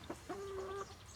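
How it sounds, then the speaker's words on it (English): A chicken gives a drawn-out, tonal squawking cluck after a couple of short clucks, close by outdoors over a steady background hiss. "Come on, chicken. Come a little closer."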